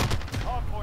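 Brief burst of distant gunshots in Call of Duty: Modern Warfare on the Season Five Suldal Harbor map, a few quick cracks mixed with game ambience.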